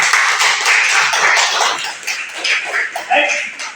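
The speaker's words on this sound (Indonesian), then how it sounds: "Tepuk tangan buat kita semuanya." Clapping from a class of students during a teaching practice lesson, a dense bright patter of hands that swells and then thins into a few scattered claps, heard close.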